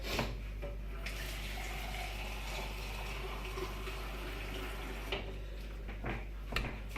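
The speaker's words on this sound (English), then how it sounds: "I'm just going to add a little bit of water to that as well." Water pours steadily into a venison and sausage stew pot in a continuous gentle stream, with a couple of soft clinks near the end.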